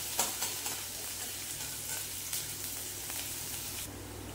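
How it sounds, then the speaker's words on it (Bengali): Onions fry steadily in a pan until just pinkish, giving a soft continuous sizzle with faint stirring scrapes and occasional small crackles, close and fairly quiet with no talking. "আমি এখানে পেঁয়াজটাকে একদম লালচে করে ভাজবো না, একটু পিঙ্ক পিঙ্ক ভাজবো"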